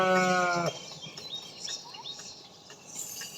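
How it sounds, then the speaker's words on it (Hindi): A goat bleats with a loud harmonic cry at the start, then shorter bleats and faint bird chirps follow over a rustling rural outdoor background. "बकरी है"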